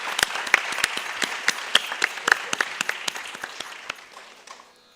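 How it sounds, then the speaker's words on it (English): An audience at an Arangetram, a classical Indian dance debut, gives a round of applause: many hands clap steadily and fairly close, then the clapping thins and fades out over a few seconds. "Let's give a round of applause for Archit Suresh"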